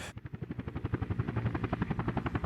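Fire helicopter in the Workers & Resources: Soviet Republic video game, its rotor producing a steady, rapid chopping pulse that sounds fairly close and moderately loud, with no talking over it.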